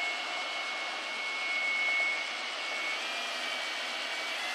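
A Pro Shine Dove25 model airplane engine runs with its propeller spinning, a loud, steady, high-pitched buzzing whine that holds continuously with slight swells and no voices.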